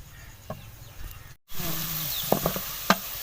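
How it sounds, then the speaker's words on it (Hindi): Chopped onions sizzle steadily in a pan over a medium flame while cooking for Lahori chickpea curry, with a few sharp clinks of stirring near the end. "मीडियम फ्लेम के ऊपर हमने 3 से 4 मिनट के लिए प्याज को कुक करना है"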